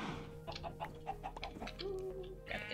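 Chickens clucking in the Minecraft video game, a run of short, quick clucks close by, with no talk over them.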